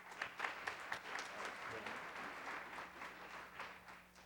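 An audience at a parent and student night applauds, a soft, fairly distant wash of steady clapping that holds at an even level.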